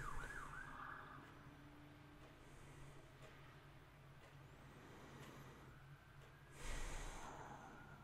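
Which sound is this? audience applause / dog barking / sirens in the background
sirens in the background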